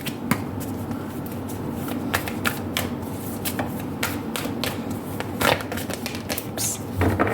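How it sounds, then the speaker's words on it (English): Tarot cards are shuffled by hand in quick irregular bursts of crisp riffling and snapping, close up, over a low steady background hum. "I'm going to shuffle all the cards before I begin your reading."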